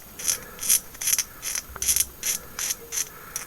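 A hand tool scrapes the seam line off a plastic part for a 1/35 scale Italeri Tiger (P) Elephant model kit, about eight short, crisp scraping strokes in a steady rhythm, close and fairly quiet, with no talking.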